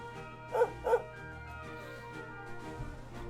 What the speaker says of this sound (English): we've seen a lot of barking from this dog in this game